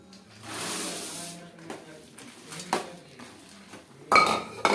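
Roasted peanuts being poured and stirred into thick hot jaggery syrup in a pan with the stove off, giving scraping and clinking of a spoon against metal, with a sharp clatter near the end.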